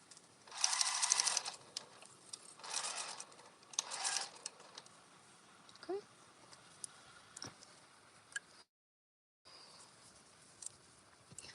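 Home sewing machine stitching chained fabric bowl cozies, a few loud whirring bursts of stitching at the start, then quieter ticks, handling and small clicks with a brief gap of silence.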